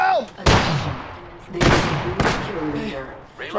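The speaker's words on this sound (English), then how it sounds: "The enemies are shooting!" Enemies fire guns in Apex Legends: three loud, sharp shots land irregularly within a few seconds, close and punchy, while a voice talks between them.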